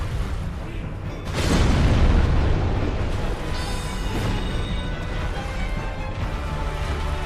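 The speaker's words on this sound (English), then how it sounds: "Another fire explosion." A booming fire explosion in Dark Souls Remastered, a sudden heavy rumble that swells and then rolls on as a dense, roaring wash over constant loud background noise.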